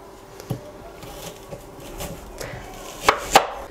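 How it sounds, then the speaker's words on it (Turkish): A knife chops a dry onion on a cutting board in slow, uneven strokes, close by, ending with two sharper, louder cuts; no talking. "Doğramaya başlayayım kuru soğanımdan."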